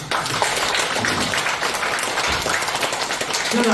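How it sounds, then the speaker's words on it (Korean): Audience at a church worship service applauding in a basement hall, a steady, fairly loud spread of clapping lasting a few seconds. "박수 한번 해주세요."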